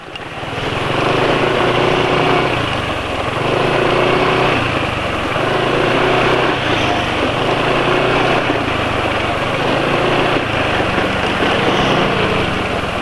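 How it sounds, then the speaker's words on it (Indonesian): A diesel engine on Fastron Diesel oil revs up and drops back to idle in repeated cycles, a loud, steady close-up drone that swells and falls every couple of seconds with no talk over it. "ketika gas dilepas, mesin langsung turun RPM-nya"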